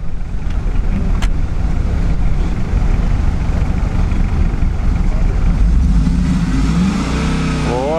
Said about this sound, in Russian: О, обороты пошли.